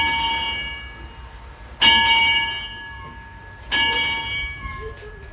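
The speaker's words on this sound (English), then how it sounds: "Ring the bell." A steam locomotive's bell, on engine number 3, rings twice in a row, each stroke bright and close with a long ringing decay fading into the quiet cab.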